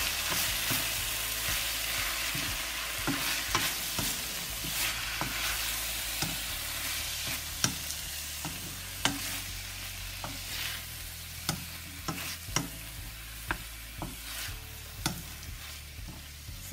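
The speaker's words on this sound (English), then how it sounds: "So let's cook our meat for at least maybe 5 minutes." Pork frying in a pan for Filipino pinakbet: a soft, steady sizzle with a low background hum and periodic spatula knocks and scrapes that grow more frequent toward the end.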